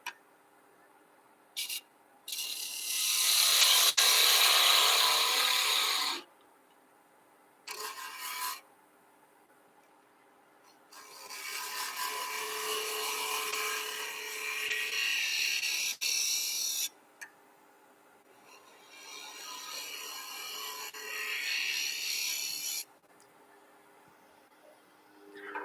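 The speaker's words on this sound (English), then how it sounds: "So I'm scraping off the dark part where the parting tool burned it a little bit." A hand tool scrapes burnt wood left by a parting tool in bursts of rough, raspy scratching, several strokes a few seconds long with quiet gaps between them, heard close up.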